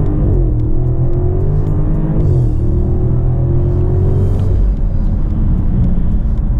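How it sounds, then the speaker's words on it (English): A 2018 Alpina B7 with a 600-horsepower engine and all-wheel drive accelerates hard, its loud engine tone rising steadily through the gears with a pause at each shift, heard from the cabin with no talk. "where we can do a little bit of a, not a launch, but you know, some decent acceleration"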